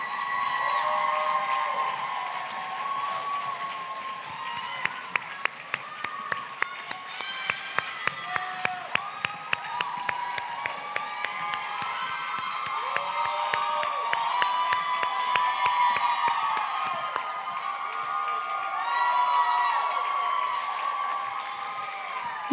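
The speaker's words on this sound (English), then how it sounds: "Big round of applause for all of our contestants this evening." A pageant audience applauds and cheers for the contestants, with sustained clapping, whoops and shouts from a large crowd filling the room and an announcer's voice heard briefly over it.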